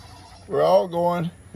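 Goats on a farm bleating, one close, drawn-out wavering call that breaks briefly and resumes, followed by quiet.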